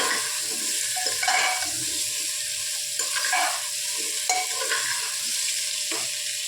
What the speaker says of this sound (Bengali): পেঁপে আর আলুটা আমরা ভালো করে তেলের মধ্যে নেড়ে নিচ্ছি।